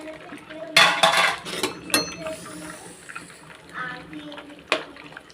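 Five eggs are mixed in a bowl with a spoon, giving clattering clinks of spoon against the bowl and wet sloshing, close and moderately loud, with a voice talking in between.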